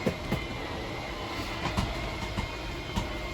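A steady mechanical grinding rumble of the slide-out motor on a 2022 Wildwood 178BHSK RV extending, with faint periodic clicks riding on top, continuous and unaccompanied by talk.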